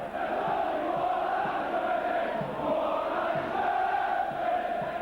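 A packed stadium crowd at a 1988 St Helens versus Wigan rugby league match produces a continuous roar of voices and chanting, distant and echoing, steady with gentle swells.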